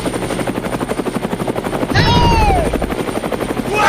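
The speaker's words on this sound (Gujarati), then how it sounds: "પાયલોટ હેલિકોપ્ટર આવે ફટાફટ." A helicopter sound effect in a comedy sketch: steady rhythmic rotor thumping runs throughout, swelling louder midway with a sweeping whistle-like whoosh as the aircraft arrives, heard alone without talk.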